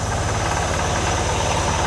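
A John Deere riding lawn mower with a 46-inch deck idles steadily up close, its engine thumping in a rough, uneven rhythm with a knocking quality, continuous and loud throughout with no voices.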